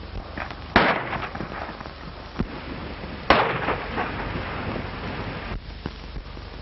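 Gunshots in a 1935 western film, two sharp loud cracks about two and a half seconds apart plus a fainter pop between them, set against a steady hiss of old film-soundtrack noise.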